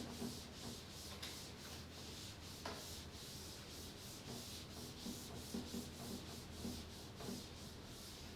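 Rubbing to erase a board during a kinematics lesson gives a steady, close, scratchy swishing with a repeated back-and-forth rhythm. No one speaks.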